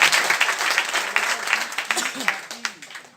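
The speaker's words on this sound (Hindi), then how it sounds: "एक बार उस व्यक्ति के लिए जोरदार तालियां बजा दीजिए" A seated crowd at a motivational talk bursts into loud applause that holds steady for about three seconds, with a voice speaking faintly underneath.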